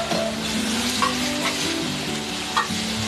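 Tomato paste frying with masala and green chilli in oil for chole, heard as a close, continuous sizzle with a few light stirring scrapes and taps throughout.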